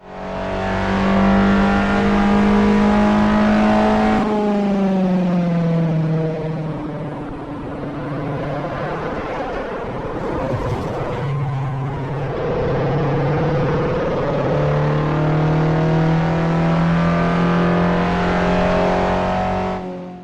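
A car on a race track swings into a slide and is caught by counter-steering, its engine droning steadily with pitch shifts and a brief dip in the middle as the revs fall and climb again, loud and close throughout.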